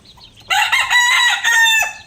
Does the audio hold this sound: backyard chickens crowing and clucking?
yes